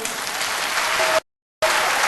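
An audience at a Turkish televised Popstar Alaturka award night applauds with dense, loud clapping. The applause breaks off into brief silence, then resumes just as strongly.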